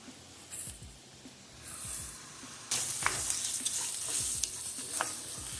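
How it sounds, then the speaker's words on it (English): Rice goes into a sizzling pan with salt and pepper, and the hiss of frying swells as a spoon stirs it, scraping and rustling steadily close by, with no voices. "And about time to add our rice."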